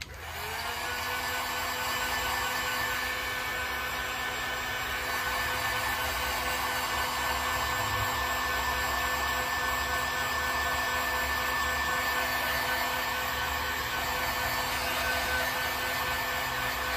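Heat gun or dryer setting airbrushed Createx paint on a fishing lure, a steady loud blowing whine with a constant hum that runs continuously and alone.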